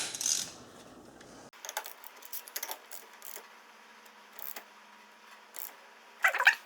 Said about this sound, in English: So I've got my torque wrench here, 3/8 torque wrench for this one.